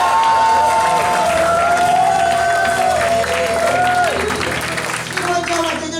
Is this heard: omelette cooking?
no